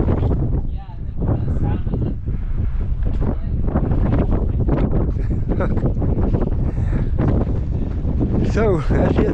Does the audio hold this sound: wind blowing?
yes